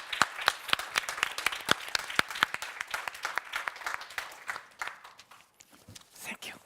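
Audience applause for panelists closing a human rights and climate change seminar session, dense sharp clapping that thins out toward the end, with a brief voice near the close.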